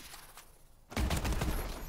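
Rapid gunfire erupts from a weapon in a first-person shooter video game, a dense burst of loud shots starting abruptly and continuing steadily after a quieter opening.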